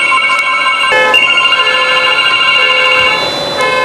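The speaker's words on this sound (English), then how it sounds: "It sounds like your phone woke somebody's car up." A phone rings loudly in a transmission repair shop, its electronic tone repeating in bright bursts with a brief break, close and alone without speech.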